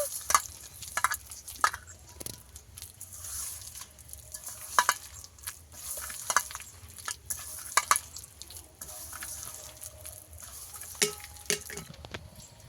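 Raw mango and bael fruit pulp are squeezed and kneaded by hand in a bowl, making faint, irregular wet squelches and slaps in short bursts, close by and quiet, with no talking.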